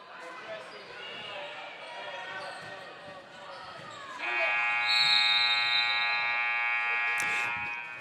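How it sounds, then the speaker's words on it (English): A basketball game horn at a girls' high school game sounds loud and sustained for several seconds to end a quarter, following arena chatter and ball bounces. "The buzzer sounds, and that will end the first quarter of play."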